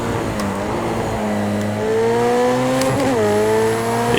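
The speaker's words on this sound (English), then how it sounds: "this thing is fighting for traction with cold tires" Road A race car in Project CARS 2 sliding on cold tires, engine droning loudly with a rising pitch and a brief dip as the tires scrub and squeal, close and continuous.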